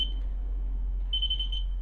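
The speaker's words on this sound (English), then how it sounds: "if I press this button on the top, and it beeps, we have a good current" High electronic tone from a Light Keeper Pro Christmas light tester detecting current: a short steady beep at the start, a pause, then a longer sustained beep, all over a low hum.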